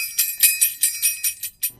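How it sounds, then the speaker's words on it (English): A spirit bell rings in a quick series of about seven bright, shimmering metallic strikes, each ringing briefly before the next, close and fairly loud with no talking. "a spirit bell, Ray."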